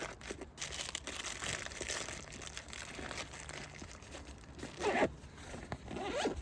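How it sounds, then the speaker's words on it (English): A backpack zipper rasps open in a long, close, steady run, with crinkling of fabric and gear around it and a sharper pull near the end. "Going down to this bottom zipper,"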